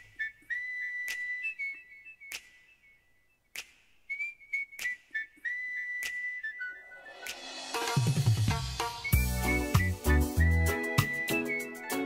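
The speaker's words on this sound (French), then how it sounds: "le monsieur qui siffle derrière, c'est un ami, c'est un siffleur professionnel" A professional whistler performs a cheerful song, clear melodic whistled lines with pauses for the first half, then a full band with drums and bass comes in beneath the whistling.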